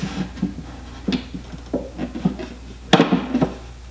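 A wooden part of a small wall cabinet is eased into its mortise, giving a run of light, close wooden knocks and taps with soft rubbing between them and one sharper clack near the end.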